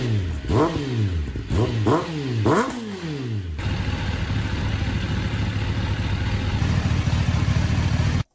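A warmed-up motorcycle engine gives three sharp revs that rise and fall, then settles into a steady, loud, close-up idle with an even mechanical rumble until it cuts off.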